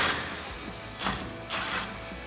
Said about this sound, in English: we're going to tighten down our 14mm nuts for our main bracket with our 14mm socket